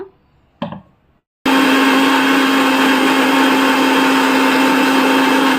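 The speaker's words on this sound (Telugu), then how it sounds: "ఇదిగోండి రెండోసారి కూడా చాలా బాగా బ్లెండ్ అయింది" A blender grinds grated coconut with water on a second pass for coconut milk. After a short clatter and a moment of silence it kicks on and runs at a loud, steady, unbroken whine to the end.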